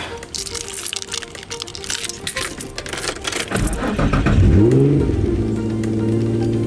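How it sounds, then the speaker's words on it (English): A Nissan 350Z engine cranks and catches on a cold start, settling into a steady, loud idle after scattered clicks and rustling from inside the car. "Let's get this cold start going"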